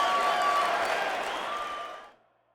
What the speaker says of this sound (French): Mesdames et messieurs, on peut les applaudir.